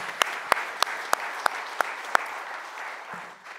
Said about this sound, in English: Yeah, can we clap for them?